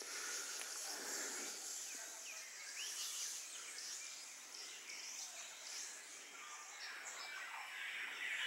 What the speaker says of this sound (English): The sounds of birds echoed through the forest.